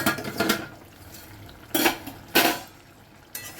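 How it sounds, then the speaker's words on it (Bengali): A metal pot lid lifted off a simmering drumstick and potato curry, a few sharp clanks and clatters spaced apart against a quiet background, close by, with no talking. "এবারে ঢাকাটা খুলবো"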